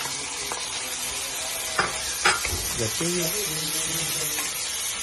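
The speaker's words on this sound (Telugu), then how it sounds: "టమాటాలు ఫ్రై అవ్వాలి." Tomatoes sizzle and fry in a pan after golden-brown onions for home-style goat boti sambar, with steady close frying hiss and a few stirring scrapes throughout.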